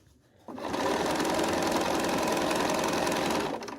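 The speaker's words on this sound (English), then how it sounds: "I will sew to the next seam to match up the ends." A sewing machine stitching quilt seams on a rainbow puzzle quilt starts abruptly after a moment of quiet, running at a fast, steady, loud whir for about three seconds before slowing to a stop.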